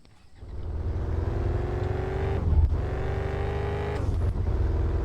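An Audi TT in the video game Car For Sale Simulator drives with a steady engine drone that builds after a quiet start, dipping briefly at two gear shifts before rising again, loud and continuous without speech.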